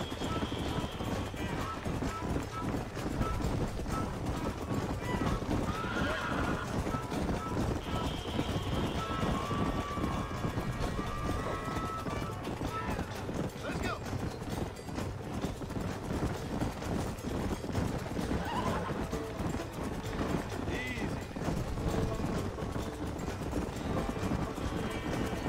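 Rapid clip-clop of a horse galloping in Red Dead Redemption, with whinnies and neighs rising over the constant hoofbeats, loud and unbroken throughout with faint talk underneath.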